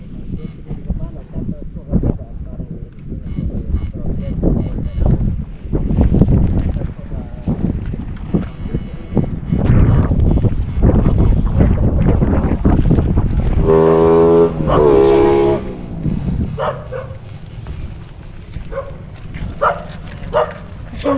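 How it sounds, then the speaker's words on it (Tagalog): Loud boat engines drone steadily over wind and floodwater, with people talking over the noise and a dog barking briefly. "Pasensya na po kayo, medyo malalakas yung mga motor."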